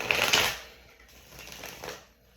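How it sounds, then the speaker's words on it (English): Tarot cards are shuffled by hand in a slow, soft riffle, a papery burst up front followed by quieter shuffling flutters, close and fairly faint. "That shuffle seems so slow."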